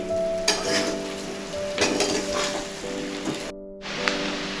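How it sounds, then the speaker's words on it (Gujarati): Steady sizzling and crackling of sesame seeds in hot oil during tempering, with a few sharper pops and a light clink of a utensil against the pan. "વઘારમાં આપણે ઉમેરીએ તલ પણ એમાં તતડે"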